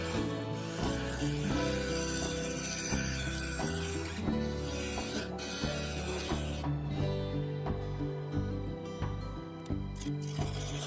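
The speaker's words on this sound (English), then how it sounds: "Then the skew chisel to square up the edge of the rim." A skew chisel squares up the edge of a spalted beech and epoxy resin rim on a lathe, giving a continuous close scraping and rasping over the hum of the spinning wood, with no talking.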